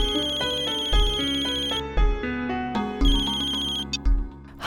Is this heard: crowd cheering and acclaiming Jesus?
no